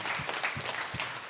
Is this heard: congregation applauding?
yes